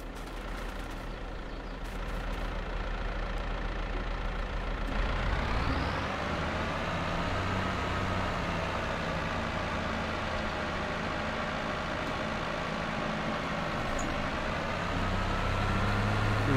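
A tractor engine in Farming Simulator 22 runs steadily, a loud continuous drone that rises in revs and tone partway through, then holds at a higher pitch, with no talking.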